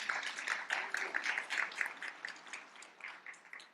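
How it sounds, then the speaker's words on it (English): Audience applause at a startup demo day event, a steady wash of clapping that swells in waves and gradually thins toward the end, heard at moderate level without talk. "round of applause, please"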